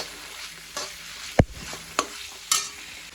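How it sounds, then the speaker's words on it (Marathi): Onions sizzle quietly in a pan while a utensil scrapes and knocks against it three or four times at a slow, uneven pace. "हांगा कांदो रोस्ट करता"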